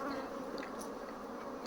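Honey bees from a swarm humming in a steady, dense drone during a hive inspection, continuous and close with no pauses, quiet overall.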